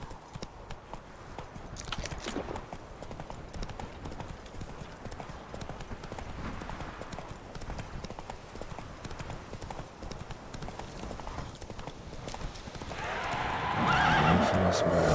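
A horse in The Witcher 3 trots with steady, rhythmic clip-clop hoofbeats, neighing at times, while game voices speak and the sound grows louder near the end.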